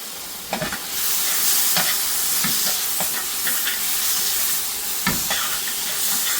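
Whole spices and green chilli fry in a pan for Bombay potatoes, giving a steady loud sizzle with a few sharp clicks and stirring knocks scattered through it. Nobody speaks.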